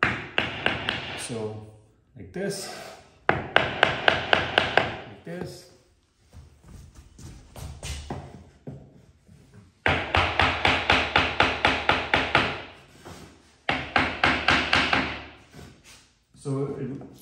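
A wooden hammer taps laminate floor planks into place in quick bursts of sharp knocks, several rapid series separated by pauses, with someone speaking briefly between them.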